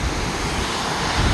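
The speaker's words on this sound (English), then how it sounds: "Ogden Waterfall Canyon" Waterfall at Waterfall Canyon in Ogden, Utah: a steady, dense rush of falling water with no breaks, close and fairly loud, swelling slightly toward the end.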